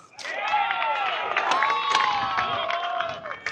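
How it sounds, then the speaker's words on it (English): Fans cheering and shouting from a nearby baseball field at a high school game, a sustained crowd roar with children's shouts and scattered claps, moderately distant. "Glendale Prep fans cheering on the field adjacent to us"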